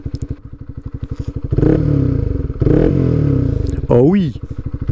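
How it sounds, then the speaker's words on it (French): Motorcycle engine idling with a steady low pulsing throb on a rural road, loud and close, briefly rising in a couple of swells; someone speaks over it near the end. "Écoute-moi ce moteur au ralenti."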